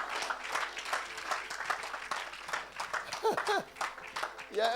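Applause for Jesus from a congregation at a church meeting, sustained clapping and cheering from a crowd with voices rising through it.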